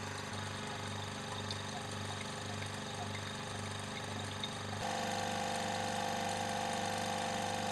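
A vacuum filtration setup draws water through a slush of dimethyl oxalate crystals, its pump giving a loud, steady mechanical drone that shifts to a higher, smoother whine partway through.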